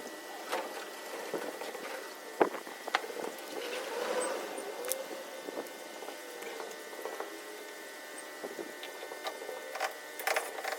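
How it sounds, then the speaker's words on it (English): Screws are driven to fasten a sheet down onto timber beside a koi pond: quiet clicking, ratcheting and brief whirring bursts, with occasional knocks and taps, all fairly close and without talk. "I can lay my sheet back on top, and it'll actually come over all the way, and I can screw it in securely this time"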